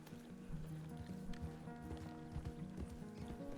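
Horse hooves clip-clop at a quick pace in a ranch roleplay video game, faint and steady with a busy rumbling game background and no talk over it.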